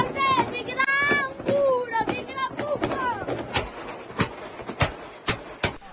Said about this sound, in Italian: fino a sei colpi esplosi con una pistola da un bambino.